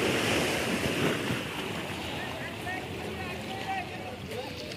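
Sea waves washing up on a beach, a steady rushing surf with wind noise on the microphone and a faint voice in the background.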